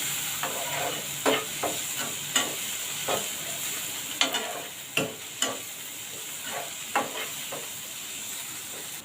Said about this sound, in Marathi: आता कांदा थोडा मऊ होईपर्यंत आपण चांगला परतून घेऊया आधी